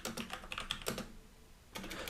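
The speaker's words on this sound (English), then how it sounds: "this is why we don't type on camera." Keys clack on a computer keyboard in quick, uneven bursts, then a pause before the typing starts again, close and fairly quiet, with no talking.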